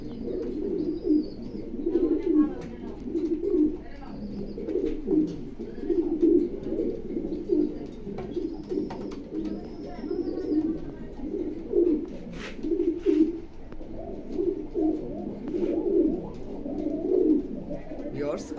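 Racing pigeons coo continuously in soft, rolling, repeated phrases close by, with a few higher chirps mixed in.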